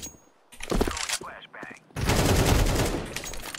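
Sharp gunfire from scout sniper rifles in the video game CS2, a few loud cracks early on followed by a dense, sustained burst of shooting and clatter toward the end.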